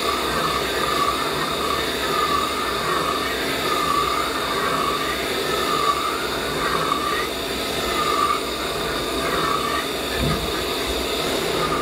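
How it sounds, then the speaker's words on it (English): CNC mill running a single point incremental forming toolpath on thin titanium sheet metal with a ball-tip tool at 135 RPM spindle speed; a steady, loud mechanical drone with a slowly pulsing whine continues throughout with no voices. "what's running on the mill right now is basically the same tool path with the end mill cut out"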